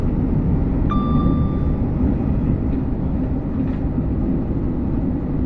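A train running on the West Coast Main Line Trent Valley route in a railway simulator game, a steady low rumble throughout with a brief tonal squeal near the start, loud and continuous with no talking.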